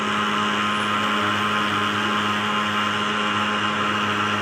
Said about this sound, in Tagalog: nag-spray sila para sa lamok